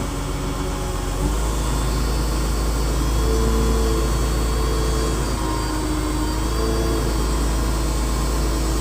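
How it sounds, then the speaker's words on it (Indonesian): A wheel loader dumping material slowly without throttle gives a loud, steady low engine rumble at idle, with a continuous drone and faint mechanical whines over about nine seconds. "kita buangnya pelan-pelan, udah nggak usah digas"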